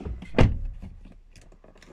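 A car door on an Audi A4 B8 shuts with a single solid thunk near the start, followed by quiet shuffling and faint mechanical ticks.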